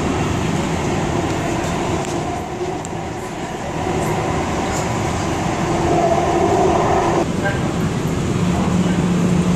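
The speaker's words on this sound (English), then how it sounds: "We're getting on the subway." A subway train rides along with a steady, loud rumble and rattle of the car, faint clicks and squeals overhead, while people talk in the background.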